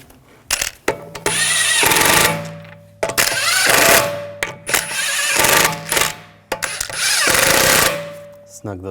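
A power tool, likely an impact wrench, drives lug bolts onto an Audi S4 rear wheel in three loud, close whirring bursts, each about two seconds long, separated by short pauses and clicks.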